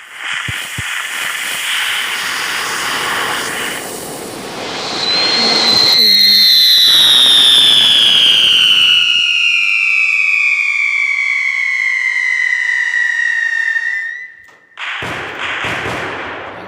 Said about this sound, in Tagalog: Whistle bomb na lang.